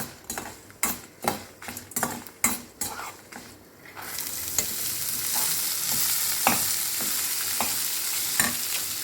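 Spring onions and onions being stirred in a pan: a run of sharp scraping spoon strokes in a regular rhythm, then a loud continuous sizzle with occasional clicks of the utensil against the pan, no talking.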